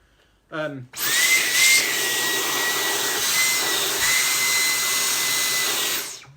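A Dyson V10 Cyclone cordless vacuum cleaner runs with a nozzle fitted, giving a loud, steady high-pitched whine and rushing airflow after a brief start, held without a break for several seconds.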